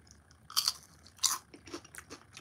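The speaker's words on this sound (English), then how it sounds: "let me chew." Someone chews a vegan mung bean egg sandwich with tomato close up, with two sharp crunchy bites followed by softer, irregular chewing noises.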